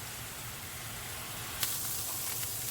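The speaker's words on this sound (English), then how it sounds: "now you can hear, I hope, that that bubble has turned into a sizzle" Minced meat sizzles steadily in a hot pan for spaghetti bolognese, a constant hissing fry with a sharp pop partway through and light crackles after.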